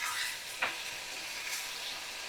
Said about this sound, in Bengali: ভালো করে আমি কষিয়ে নিচ্ছি মশলাগুলো,